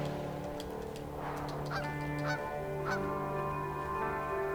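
A goose honks several times in a video game, each honk clear and fairly loud over steady droning game music, with no talking.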